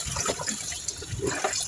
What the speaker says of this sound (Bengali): মাছগুলো এবার ধুয়ে নিব